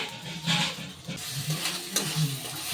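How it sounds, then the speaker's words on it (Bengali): A spice paste (masala) seasoned with salt and turmeric fries with a tempering in a pan for egg do pyaza, giving a soft sizzle broken by stirring scrapes and clinks, close up and fairly quiet. "এবার এই মশলাটাই ফোড়নের সাথে ভালোভাবে একটু কষিয়ে নেব।"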